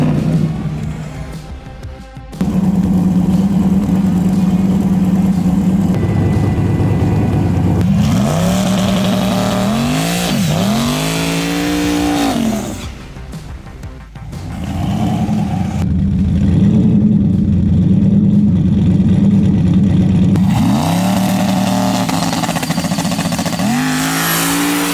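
A turbocharged Chevrolet Nova with a new engine revs loudly and accelerates hard, its roar climbing in pitch through gears with sweeping rises, brief drops between pulls, and a close, continuous exhaust note.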